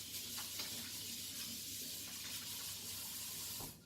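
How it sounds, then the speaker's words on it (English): Water runs steadily from a kitchen tap as hands are washed beneath it, a continuous close hiss and splash with no talking. "don't forget to wash your hands"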